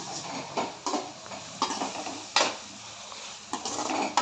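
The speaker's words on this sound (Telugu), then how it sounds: "కొంచెం ఇప్పుడు ఒకసారి మొత్తం మిక్స్ చేసుకోవాలి." Soya chunk fried rice is stirred in a pan, giving a series of scraping clinks and metal-on-metal knocks spaced irregularly, with a faint sizzle underneath.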